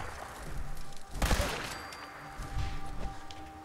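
Gunfire from a weapon in the video game Fallout 4: one loud, sharp burst of shots, followed a moment later by a rougher, quieter rattle of further fire over steady game ambience.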